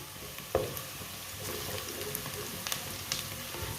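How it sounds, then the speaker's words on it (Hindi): Onions frying lightly in a pot for matar pulao, a soft, steady sizzle with a few sharper clicks and stirring taps, fairly quiet and alone. "प्याज को ना ज्यादा ब्राउन नहीं करना, हल्का सा ब्राउन करना है।"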